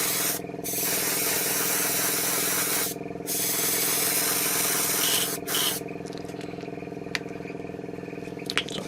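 An airbrush sprays polyurethane clear coat onto a Tamiya 1/12 Yamaha YZR-M1 motorcycle model, giving a loud continuous hiss broken by brief pauses, with a steady compressor drone underneath and small taps near the end.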